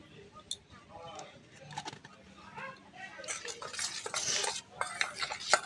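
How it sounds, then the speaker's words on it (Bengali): Pakora batter with nigella seeds and baking soda is mixed in a bowl, with quiet talk at first, then wet, rhythmic stirring and utensil clinks that grow louder and busier. "ভালো করে মিশিয়ে নিব।"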